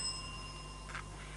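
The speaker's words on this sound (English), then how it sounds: "I believe that came before the bell" A brief, faint bell ding marks the end of a timed round in a school quiz competition, heard over a steady background hum.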